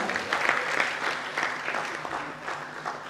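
A crowd in a Bhopal auditorium claps continuously for the cast of the ballet Rani Durgawati, a full, even burst of many hands lasting about three seconds.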